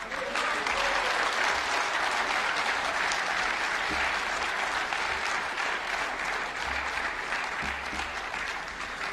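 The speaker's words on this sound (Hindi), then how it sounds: "एक बार जोरदार तालियां।" Audience applause at a Bharatiya Bhasha Samiti government event, steady dense clapping from a crowd lasting throughout, fairly loud and even with no talk over it.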